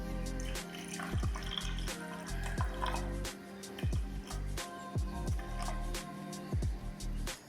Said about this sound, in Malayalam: ഇനി നമുക്കിതിലേക്ക് ഒരു 50 ml DM വാട്ടർ ഒഴിച്ച് കൊടുക്കാം കേട്ടോ